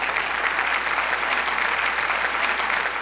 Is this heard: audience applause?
yes